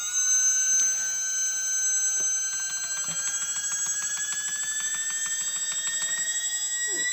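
Unpropped drone motors spun up on throttle during flight-controller setup, a thin high-pitched steady whine with layered tones, faint and continuous with light ticking underneath.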